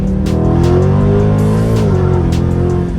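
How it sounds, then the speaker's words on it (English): A car accelerates hard and shifts from second toward third gear while out for some spirited driving, its loud, close engine roaring with steady revs and a faint tire squeal underneath. "third gear, let's go second"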